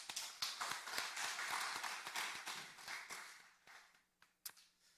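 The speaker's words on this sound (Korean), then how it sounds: "특별 찬양을 해준 1여전도에서 6여전도에 다시 한번 축복하고 격려하는 박수 함께 하도록 하겠습니다." A church congregation at Bucheon Jisan Church's special dawn service claps to bless and encourage the women's groups who sang, a brief burst of applause that quickly thins to a few sharp, isolated claps before stopping.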